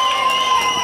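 Cheering and shouting from a live crowd at a Sapopemba, Zona Leste event, a steady dense wash of voices held for under a second with no clear clapping standing out.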